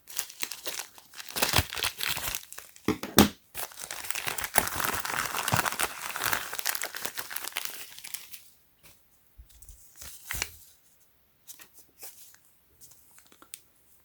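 Packaging for an 18650 Li-Ion 3S balance protection board crinkles and tears loudly up close for several seconds, then gives way to sparse, quieter rustles and small handling taps.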